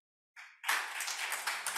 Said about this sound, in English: so give me a clap if you do use a form of technology.